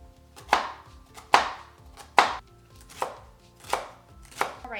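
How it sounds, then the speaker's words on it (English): Yellow onions, celery and carrots are chopped with a knife on a cutting board, six sharp, evenly spaced chops that land close and loud with quiet pauses between them and no talking. "we are going to chop up 2 small yellow onions and 4 stalks of"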